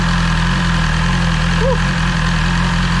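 BMW S1000XR 2020 motorcycle idling hot after radiator hose work, a steady loud low throb with an even rhythmic pulse, close by, with a brief faint whine in the middle.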